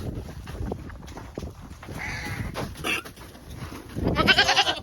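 Goats bleat repeatedly in a barn on a frozen day at feeding time, several loud calls rising over rustling and shuffling, with a louder cluster of cries near the end.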